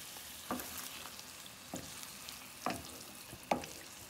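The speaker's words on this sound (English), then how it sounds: "Now the fish is going in. We're gonna mix that up." Herring added to tomato paste in a pot and stirred, a faint low sizzle under a few sharp spoon clinks and scrapes against the pot, spaced irregularly and heard close, with no talk.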